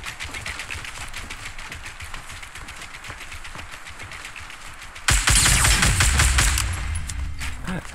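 Rapid automatic gunfire in the video game Fortnite rattles in dense bursts, growing suddenly louder and heavier midway, close and sustained.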